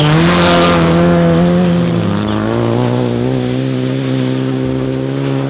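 A Group A style rally car drives past, its engine note climbing and shifting in loud sustained harmonics, close and continuous with no talk over it.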